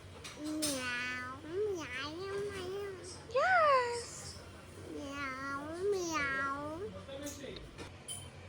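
A child repeatedly imitates a cat, producing several drawn-out meows with rising and falling pitch, close by and fairly clear.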